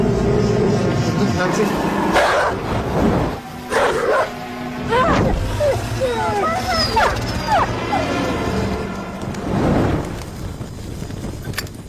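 Dog barking and whimpering indoors, a string of sharp barks, yips and high whines spread over the clip, with people talking around them.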